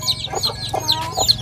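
Chickens cluck in a village coop, a run of short, close calls rising and falling over a faint steady hum, with no talk.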